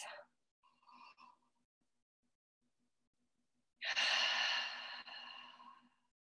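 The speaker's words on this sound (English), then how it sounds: "let's do some deep breaths" Deep audible breaths from a group on a team call using essential oils: a brief exhale, a faint breath, then a long loud sighing exhale that fades out, with no talk.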